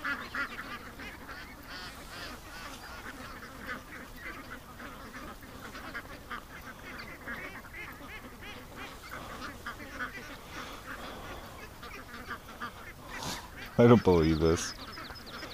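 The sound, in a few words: ducks at a lake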